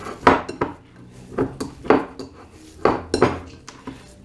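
Soft taco dough kneaded by hand in a bowl, heard as about eight close, irregular dull knocks with light clinks as the bowl shifts against a hard surface; no talking.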